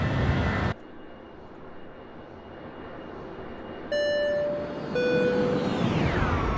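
The simulated engines of an Airbus A300-600F in X-Plane 11 give a steady jet roar with a sharp, buzzsaw-like whine. The pitch shifts as the view changes, and the sound is loud and continuous, with no talk.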